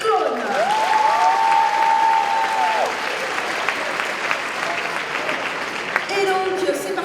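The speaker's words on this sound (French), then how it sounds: "Je vous demande de l'applaudir encore une fois, Cyclone!" Sustained crowd applause at a cosplay contest at a Swiss manga convention fills the hall, steady clapping with a loud tonal voice or musical sweep over it, then thinning as speech resumes.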